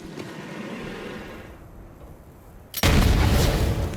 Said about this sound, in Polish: No, eksplozja.